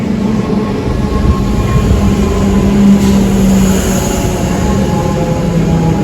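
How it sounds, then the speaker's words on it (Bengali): A Melbourne train pulls into the station, a loud steady rumble of wheels and motors with faint tonal whine, close by and without talk. "চলে এসছে, এখন আমরা ট্রেনে উঠবো আর কি"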